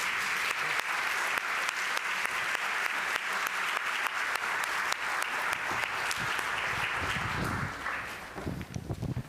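Sustained audience applause at a Horizons New York 2022 talk, a dense steady wash of many hands clapping for over seven seconds before thinning out near the end.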